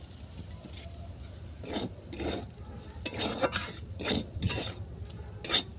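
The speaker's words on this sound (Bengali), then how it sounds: "পোস্তটা ভালো করে মিশিয়ে নিচ্ছি" A spoon scrapes and stirs through fried jute leaves and potatoes as poppy seeds are mixed in, giving several irregular scraping strokes against the pan over a faint background hiss, with no talk.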